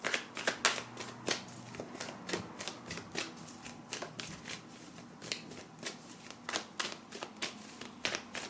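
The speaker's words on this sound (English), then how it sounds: "I'm going to pull some love activation cards for you" Love activation cards shuffled by hand in a quiet room: a long run of quick, crisp riffling snaps and slaps, close and steady, with no talking.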